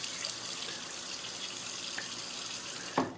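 A razor rinsed under a running bathroom tap, a steady close hiss of water pouring into the sink with a brief splashy clatter near the end, no voices.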